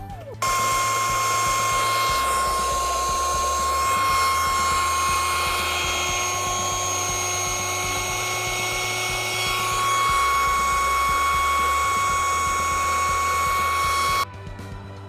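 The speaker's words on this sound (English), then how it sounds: "it took about 5 minutes to blow this thing up because this pump is stupid" An electric air pump inflating a ball, plugged into a GoPower Plus portable power station, gives a loud, steady high-pitched motor whine with a rhythmic low pulsing throughout, then stops abruptly near the end.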